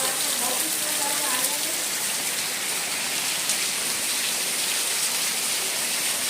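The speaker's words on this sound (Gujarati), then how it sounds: "વરસાદ ગજબ પડે છે મિત્રો" A downpour in Mithapur drums hard and constantly, a thick wash of falling rain with faint voices underneath at the start.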